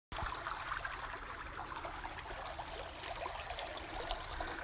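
Water trickling in a small stream along the Ice Age Trail between Kewaskum and Elkhart Lake, a continuous close babbling flow heard alone, steady without pauses.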